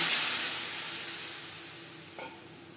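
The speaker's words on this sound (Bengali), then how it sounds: "আম হালকা করে ভেজে নেওয়া হয়ে গেছে দিয়ে দেবো জল" Water poured into a hot pan of lightly fried mango pieces gives a loud burst of sizzling hiss that fades steadily over a few seconds, with a faint clink near the end.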